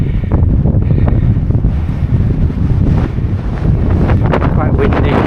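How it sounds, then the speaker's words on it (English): Strong wind gusts roar and buffet the microphone continuously on the cloud-covered hilltop of Pen-y-Ghent, loud and close, with faint scattered rustling underneath. "Quite windy"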